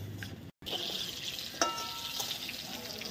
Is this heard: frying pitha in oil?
yes